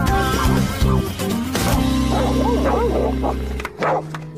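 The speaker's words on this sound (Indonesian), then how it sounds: "tiba-tiba terdengar banyak suara gonggongan" A crowd of puppies barks and yips in quick, overlapping bursts, loud and close, over steady tonal background music.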